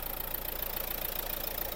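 A Renault Megane 3 with the 1.5 dCi diesel engine idles in a steady, even rumble with a faint rhythmic clatter, running alone without voices.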